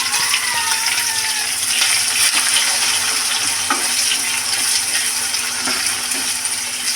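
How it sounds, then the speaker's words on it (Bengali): Onions frying in a pan with whole cumin seeds and cardamom, a continuous soft sizzle and crackle with occasional clinks of a stirring utensil. "দিয়ে পেঁয়াজটা ভালো করে লাল লাল করে ভাজবো।"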